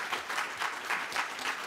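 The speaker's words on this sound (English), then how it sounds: "So let's give a round of applause real quick." Brief round of applause from an audience at a lunchtime talk on a culinary center, a short burst of moderate clapping with a pulsing rhythm and no speech.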